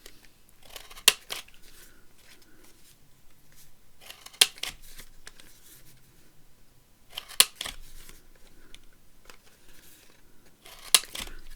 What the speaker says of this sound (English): So I just want to round my corners because it's a journaling card